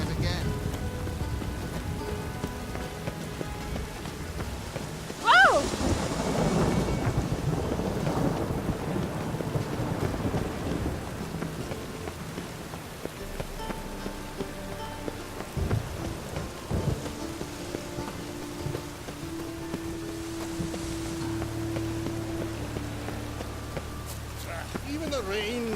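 Steady rain pours down in The Witcher 3: Wild Hunt with a loud thunderclap rolling through early on, followed by faint rumbles beneath the constant hiss.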